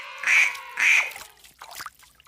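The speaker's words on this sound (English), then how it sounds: "It sounds like a duck!" A duck gives two loud, nasal quacks close by, followed by fainter rustling and splashing sounds.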